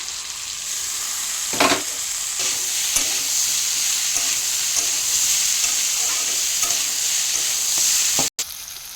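Cauliflower and eggplant sizzling in a frying pan, a constant close hiss with periodic scrapes and clinks as the pieces are turned over, no voices.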